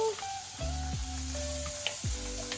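Onion masala with ginger-garlic paste frying in hot oil for a crab masala, a steady soft sizzle with a few faint scraping stirs, fairly quiet and without speech.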